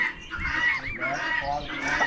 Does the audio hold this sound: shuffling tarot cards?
no